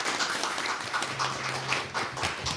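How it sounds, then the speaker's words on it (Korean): An audience at a National Assembly policy debate on building a Gyeonggi international airport claps in a continuous, moderately faint round of applause, a dense patter of many hands. "뜨거운 박수 다시 한번 부탁드립니다."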